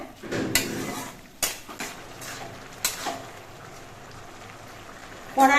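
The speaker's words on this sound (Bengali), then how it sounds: "এবার নুন হলুদ দিয়ে নেড়ে চেড়ে ভালো করে মিশিয়ে নিতে হবে" Ash gourd with salt and turmeric is stirred in a wok over a high flame, with irregular metal scrapes and clanks of a spatula against the pan over a soft steady sizzle.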